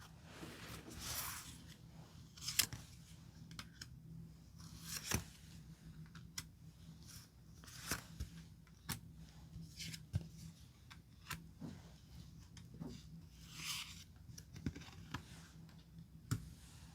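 Tarot cards are shuffled and picked from a spread, heard as faint, scattered papery slides, flicks and soft taps spaced irregularly over a quiet room background with no talk.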